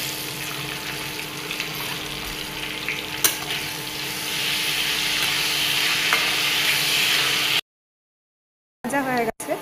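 Diced potatoes fry in hot oil seasoned with dried chilli and a torn bay leaf, giving a steady close sizzle with occasional stirring for about seven seconds before a silent gap and a brief clatter.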